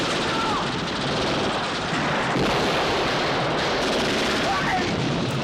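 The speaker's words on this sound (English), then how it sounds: "I love the look of the explosions." Booming explosions from the 1967 James Bond film You Only Live Twice roll out as a dense, continuous roar of blasts and rumble with no clear gaps between them.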